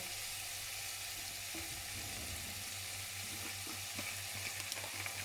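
Chicken adobo sizzles and fries steadily in a pan, a dense constant crackle close to the mic, with occasional soft stirring and clinking over a low background hum and no talk.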